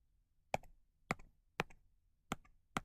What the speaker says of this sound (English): I'm going to do that by going back to my original equation and very carefully typing it into my calculator